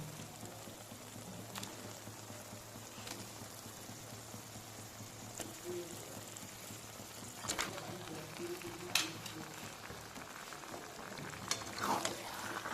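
Chicken pieces sizzle and fry in oily spice masala with red chilli powder in a pan over low-medium gas, a soft, steady crackle with a few louder spits and scrapes near the end.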